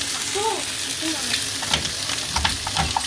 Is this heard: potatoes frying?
yes